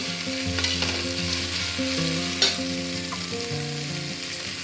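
Herbs sizzle and fry in a hot pan while a spoon or spatula stirs and scrapes, with occasional clinks against the pan.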